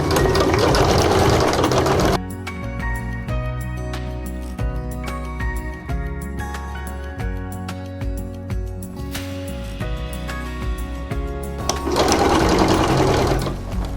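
A sewing machine stitches bag fabric and lining, running loud and fast at the start, easing off through a quieter, uneven middle stretch, then speeding up again near the end.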